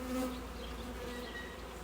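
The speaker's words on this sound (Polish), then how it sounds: "Nie pokażę Wam tego, jak tutaj wsypuję te pszczoły tutaj yy, do tego yy, startera" A dense swarm of honey bees hums without pause inside a bee package destined for a queen-rearing starter, close and steady, with no voices.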